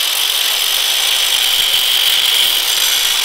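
A power tool cuts off a part on a bicycle-powered car build so a pulley can slip on, giving a loud, continuous, even whine close by with no talking.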